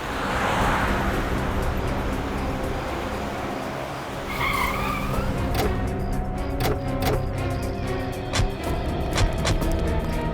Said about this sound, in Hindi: जरा गाड़ी रोको